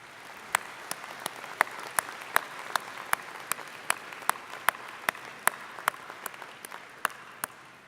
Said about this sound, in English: Graduates, can you join me in a round of applause for those who have supported you through your academic journey?